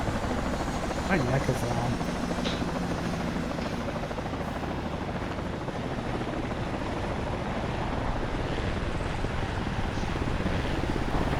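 A helicopter lands nearby during a military field exercise, its loud steady rotor roar and wind buffeting continuous throughout, with someone talking briefly over it.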